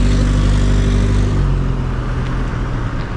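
Road traffic rolls past at close range, a loud steady rumble of car engines with low drone easing off after about a second and a half as vehicles clear, no voices.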